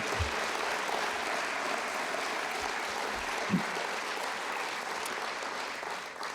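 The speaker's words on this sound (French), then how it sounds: "ça vaut une bonne main d'applaudissements pour ceux qui ont planché sur cette fête" A large audience at a centenary congress breaks into sustained applause, a dense, even wash of clapping that carries on steadily.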